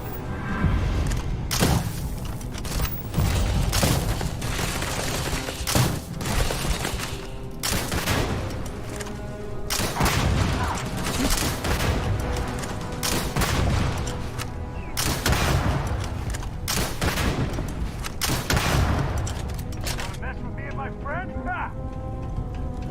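Rapid bursts of explosions and gunfire-like blasts in a chaotic Starfield battle, loud and continuous throughout.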